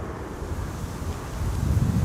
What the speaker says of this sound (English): Wind all of a sudden picking up.